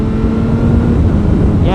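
A tuned motorcycle engine holds a steady drone at 4,000 RPM in second gear while riding, loud and close and heavily buffeted by wind rush, with no clear change in pitch.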